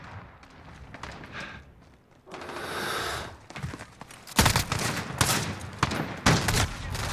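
An MG34 machine gun fires in Call of Duty Modern Warfare, with rapid, loud bursts and dense gunfire in the second half following quieter game sounds and a soft hiss.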